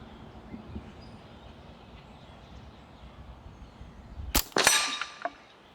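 Hatsan Blitz .30 caliber PCP air rifle fired outdoors: after quiet background, one sharp loud crack followed by a clanging metallic ring and a short echo tail.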